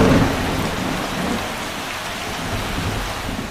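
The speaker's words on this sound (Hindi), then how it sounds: "लेकिन थोड़ी देर में बारिश होने लग गई" Steady rain pours at a cliff beach in Varkala, a dense, continuous hiss that stays loud and even throughout with no voices.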